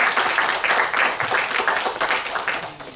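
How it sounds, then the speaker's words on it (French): Audience clapping at a Côte d'Ivoire business event, a steady crackle of many hands that fills the whole moment and tapers slightly at the end. "que je demande d'applaudir"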